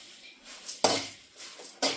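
A spatula stirs flattened rice (aval) in a pan with three sharp scraping, clinking strokes separated by quieter gaps. Each stroke flares bright and metallic, close by.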